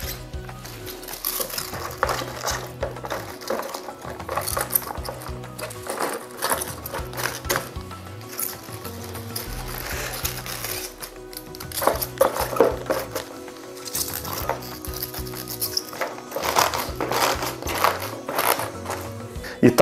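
Cabbage is laid in layers and pressed down by hand into a jar with a little garlic, making crisp marinated petal cabbage. Irregular squeaky crunches and clicks come close up, alongside a person talking.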